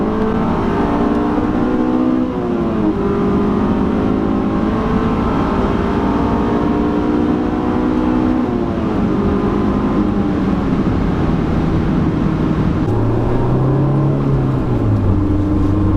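A stock Honda S2000 engine drones loudly and continuously, its pitch rising and falling as the driver shifts and eases through turns.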